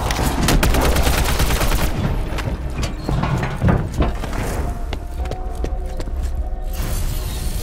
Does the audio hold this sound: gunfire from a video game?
yes